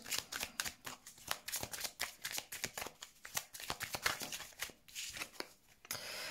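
Tarot cards are shuffled by hand in quick, rhythmic riffling bursts, close and crisp, with brief pauses between passes and a final soft tap at the end.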